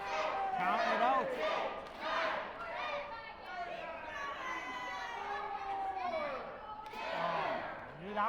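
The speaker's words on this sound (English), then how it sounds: "Crowd enjoying this." Wrestling arena crowd at a main event, a broad roar of cheering and chatter that swells and dips in waves, with bursts of louder shouting near the start and end.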